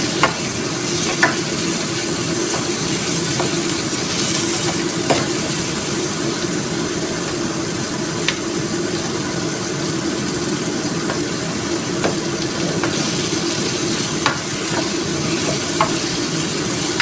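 Pork and pork liver sautéing in a hot pan, a steady close sizzle running throughout with occasional clicks and scrapes of stirring, no voices.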